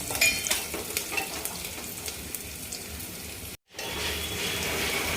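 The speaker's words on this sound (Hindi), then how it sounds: "मेरी लहसुन और प्याज भून चुकी है" Garlic and onion sizzle steadily in a pan for a dhaba-style palak dal tadka, a dense continuous crackle with brief stirring scrapes, loud and close, broken by one short silent gap near the end.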